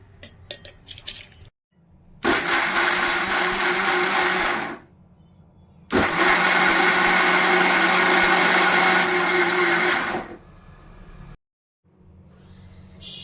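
An electric mixer grinder whirs as it blends a fenugreek spice mix into a paste, running in two loud, close bursts of a few seconds each, separated by short pauses, with no talking.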